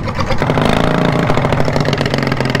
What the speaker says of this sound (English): Fucking lawnmower engines.